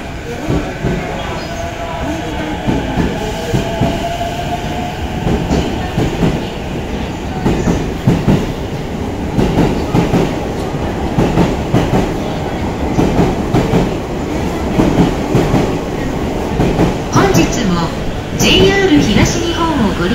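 An E233 series train pulls away from platform 12 at Shinjuku Station, wheels clattering in a rhythmic clickety-clack with occasional squeals, while a voice makes announcements over it.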